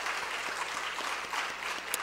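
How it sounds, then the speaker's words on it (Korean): Sustained applause from a church congregation welcoming two guests, a steady wash of many hands, somewhat distant and fairly quiet. "박수로 우리 환영합니다"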